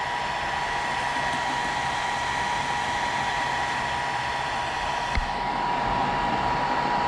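A heat gun runs continuously at close range, a steady loud blowing roar, while it softens the back glass adhesive of a Samsung Galaxy S7 Edge; no one speaks.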